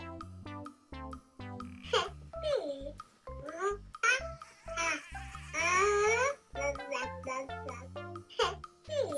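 A Baby Annabell toy doll plays recorded baby sounds: close, clear babbling, cooing and short whimpering cries in choppy bursts with brief gaps between them.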